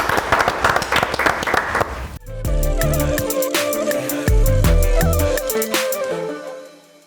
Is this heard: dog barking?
no